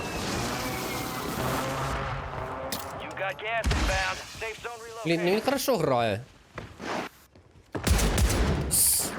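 Rapid bursts of Call of Duty: Warzone gunfire crackle between loud, excited talking, with several sharp volleys near the end.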